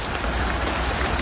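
Heavy rain pours onto a waterproofed shipping container in a dense steady hiss, close and constant, with no voices.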